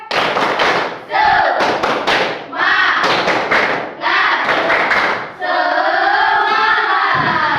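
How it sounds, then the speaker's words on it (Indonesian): A school class performs a 'tepuk semangat' cheer, clapping hands in loud, rhythmic bursts of sharp claps separated by short gaps, with voices chanting along and a teacher speaking near the end. "kita tepuk semangat dulu ya semua"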